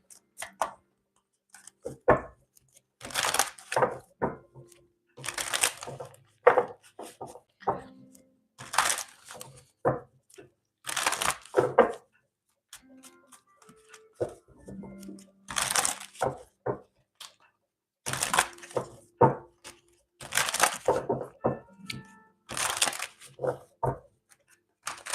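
Bursts of crisp card riffling and slapping as a tarot deck is shuffled repeatedly, separated by short quiet gaps and soft handling noises.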